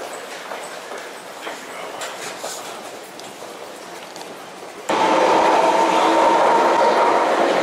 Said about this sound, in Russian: В этот поезд мы не залезли.